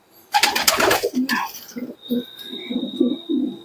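Tippler pigeons kept in a loft give repeated low throaty coos, preceded by a burst of wing flapping and rustling, with a faint steady high tone in the background.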